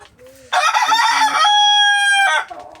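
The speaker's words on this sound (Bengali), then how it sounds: "আমার এখানে অল্প কিছু মুরগি থাকার কারণে আমি হয়তো খাঁচায় লালন পালন করতেছি" A rooster crows loudly and close by among a small flock of chickens kept in cages on a small farm, one long drawn-out crow with soft clucking before and after it.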